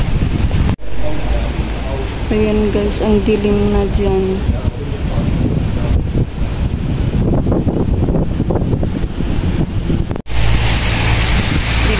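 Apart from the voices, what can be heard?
strong wind during Typhoon Enteng in Hong Kong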